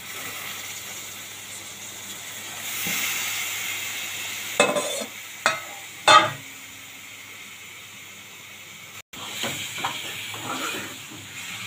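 Washed chicken pieces go into hot tempering in a pan for Malvani chicken curry, giving a soft hiss with a few sharp bursts of sizzle and clatter midway, then a lighter sizzle continuing.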